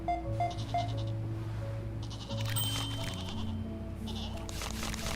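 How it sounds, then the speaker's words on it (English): Game goats in Hypermarket Billionaire bleat nonstop, one cry following another without pause over a constant low background drone, loud and close, with no voices. "It's non-stop goats."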